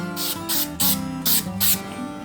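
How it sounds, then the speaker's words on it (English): Five short hissing bursts of spray adhesive onto torn drywall in an uneven rhythm, with steady music playing underneath. "If you got tears in the wall like this, spray it with some spray adhesive."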